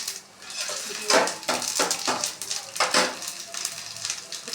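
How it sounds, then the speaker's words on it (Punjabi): Tempering (tadka) goes into hot oil, giving bursts of sizzling mixed with metallic clinks of a spoon against a pan, up close and fairly quiet, rising and falling in irregular surges. "ਹੁਣ ਪਾ ਦਿੰਨੇ ਆ ਤੜਕਾ"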